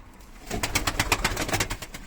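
Racing pigeons coo in a busy, overlapping stream of soft pulsing calls, close by and moderately loud, with no talking.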